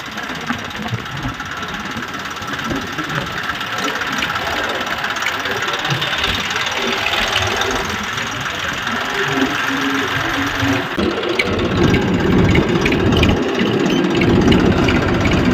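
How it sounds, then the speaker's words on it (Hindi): A tractor engine runs steadily as it is driven by a woman on a farm, a continuous heavy low rumble and mechanical clatter that grows louder near the end, with voices talking over it. "मम्मी चला रही है ट्रैक्टर"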